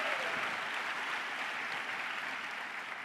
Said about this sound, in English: Give them a round of applause for being a part of this great company.